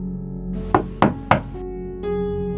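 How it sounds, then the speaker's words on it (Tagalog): Three sharp knocks on a door in quick succession, loud and close, with a low background tone underneath. "Pero kumatok ulit."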